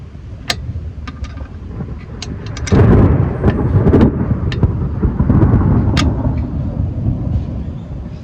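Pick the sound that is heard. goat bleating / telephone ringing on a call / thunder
thunder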